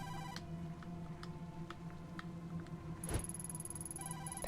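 A phone rings from inside a filthy paper bag swarming with flies in the game Tokyo Dark, a repeating electronic trill over a steady low drone and faint ticking, with a louder burst near the end.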